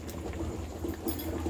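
Mango pickle simmering with vinegar in a pan, a low bubbling patter of thick liquid with small pops, steady and close, with no voices.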